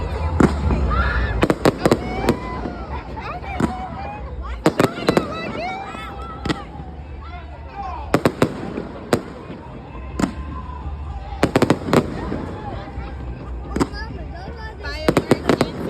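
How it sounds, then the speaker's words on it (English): Independence Day fireworks burst over the Riverwalk in Tampa Bay in loud, irregular clusters of sharp bangs and crackles, with people talking and a crowd murmuring between the blasts. "Fireworks in Tampa Bay."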